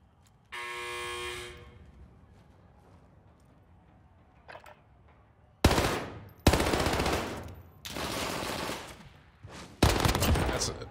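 Video game gunfire in a battle royale match: rapid automatic bursts of shooting, several loud separate volleys in the second half, with a buzzing tone and a few quieter shots earlier.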